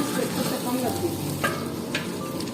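Tomatoes cooking in a pan for fried rice, stirred as they soften: a continuous close sizzle with soft scraping and a couple of light utensil taps.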